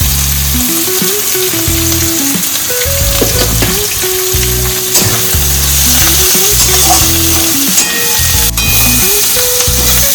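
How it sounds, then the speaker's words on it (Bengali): Onions and capsicum fry in a pan for a street-style chilli egg dish, a loud, continuous close sizzle with stirring, under a steady line of background music. "পেঁয়াজ আর ক্যাপসিকামগুলো আস্তে আস্তে হালকা হালকা করে ভেজে আসছে।"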